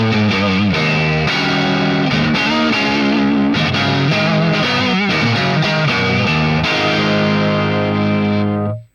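An electric guitar runs through a Hotone Ampero 2 Marshall SV20H clone with no reverb or effects. It plays loud, distorted chords and notes continuously, then cuts off sharply at the end.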